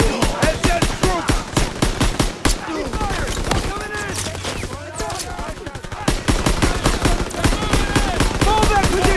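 Sustained automatic gunfire in the World War II shooter Call of Duty WWII, loud rapid bursts of rifle and machine-gun fire with a short lull midway, shouted battle voices in the background.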